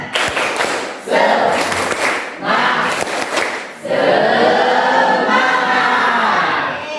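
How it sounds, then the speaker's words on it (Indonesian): A school class doing a rhythmic spirit clap, with bursts of loud group clapping and cheering in distinct waves and a longer, sustained final round. "Tepuk semangat."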